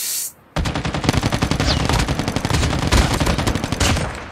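Rapid automatic gunfire from a weapon in the mobile shooter Call of Duty Mobile, battling bots in a battle royale match: a brief quiet, then a loud, dense stream of close shots with steady rhythm and no talking.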